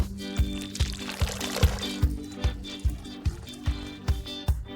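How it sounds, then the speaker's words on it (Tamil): Cocktail poured into a pineapple glass, a steady liquid stream with a regular series of soft glugging pulses, close and clear, no voices. "அதை அன்னாச்சி கிளாஸில் ஊற்றி அலங்கரிக்கவும்."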